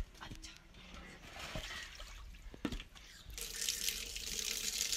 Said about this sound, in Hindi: हाँ बाल्टी भरी जा रही है